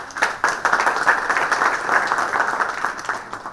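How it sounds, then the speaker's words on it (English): An audience at a conference session applauds a speaker with loud, close hand clapping. It swells quickly, stays full with distinct individual claps, then begins to taper. "Everyone, a huge round of applause"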